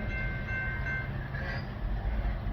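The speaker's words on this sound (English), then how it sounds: "Next time you got a train coming," A train rumbles past in Ironton, Ohio, a steady low roar of rolling cars with a faint squealing tone, continuous and close.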